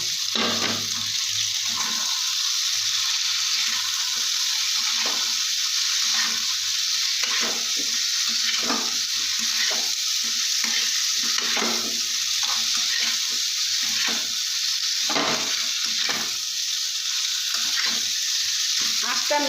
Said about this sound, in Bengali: এবারে আমি কপি আর আলুটা দিয়ে ভালো করে কষিয়ে নেবো